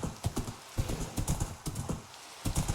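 Horse in Minecraft moving with a steady run of clip-clopping hoofbeats, fairly close and moderately loud, over a constant faint background hiss with no speech.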